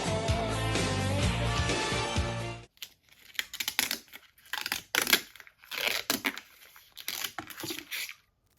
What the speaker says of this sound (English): I like to peel back each corner and just sort of peel the plastic back from the corners and the edges